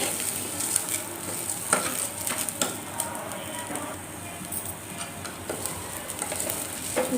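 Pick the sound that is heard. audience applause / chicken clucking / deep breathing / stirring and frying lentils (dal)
stirring and frying lentils (dal)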